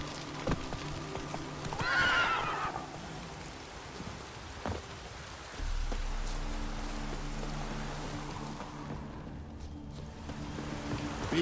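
A horse neighs and whinnies loudly in The Witcher 3 video game, followed by steady hoof clip-clops under faint rain and a low rumbling background.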